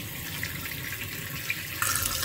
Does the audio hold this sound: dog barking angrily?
no